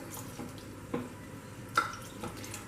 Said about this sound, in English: So I think I'll be adding little bit more water to it